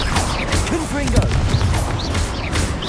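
Confringo blasting spell explosions in Hogwarts Legacy on PC, a dense string of loud booming blasts and crashes overlapping continuously with a voice speaking over them.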